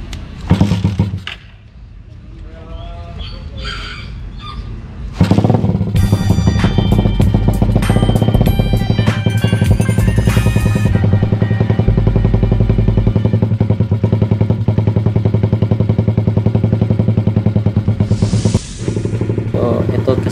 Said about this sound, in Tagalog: Ayaw pa umandar. So, kickstart muna natin.